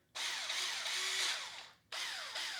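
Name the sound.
Black+Decker cordless drill keyless chuck gripping bit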